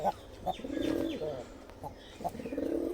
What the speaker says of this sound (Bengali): ওই যে পায়রাটা দেশি পায়রাটা এখানে বাচ্চা খাওয়াচ্ছে দেখো